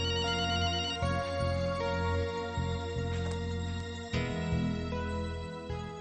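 An electronic phone ringtone plays a repeating melodic pattern, loud and continuous from start to finish with no voices.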